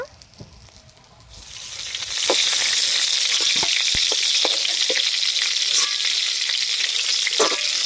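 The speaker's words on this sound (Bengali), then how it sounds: "পটল ভালো করে ভেজে নিয়েছি এবার তুলে নেব" Pointed gourd (potol) slices frying in hot oil give a steady, loud sizzle that swells after the first two seconds, with occasional stirring clicks over it and no talk.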